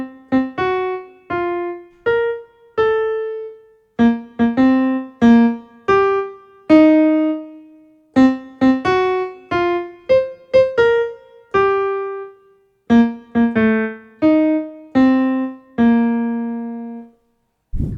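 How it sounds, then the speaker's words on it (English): Happy Birthday tune played as a melody of clear sustained tones in its familiar rhythm, phrase after phrase, with no voices, used as a guess-the-song listening test. "Did you guess it was actually Happy Birthday?"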